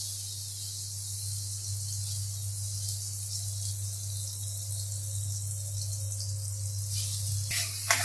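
Poppy seed and green chili paste sizzles in a pan, a soft continuous hiss that stays steady throughout over a low background hum, without any talk.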